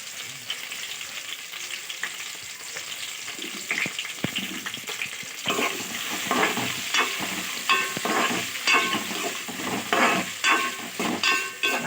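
Green chillies, onions and curry leaves fry with mustard seeds for potato kurma, a soft sizzle that swells louder halfway through, with crackles and stirring scrapes close by and no talking.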